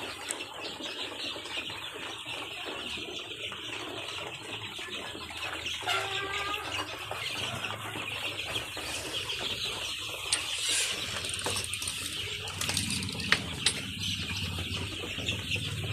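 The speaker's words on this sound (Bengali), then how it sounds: "এখানে আছে মিশরীয় ফার্মি মুরগি।" Egyptian Fayoumi chickens about three and a half months old cluck on a poultry farm, scattered soft clucks and calls rising over a steady background hum, with a few sharper notes toward the end.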